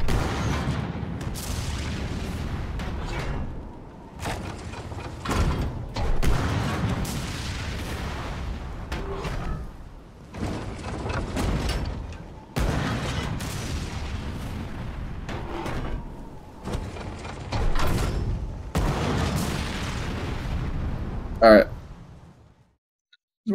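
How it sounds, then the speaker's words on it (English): Booming cannon fire from a ship in the Skull and Bones naval game, several heavy blasts spread through the clip amid ongoing battle noise, with a player talking over much of it. "I gotta blow some stuff up. That's how cannons work."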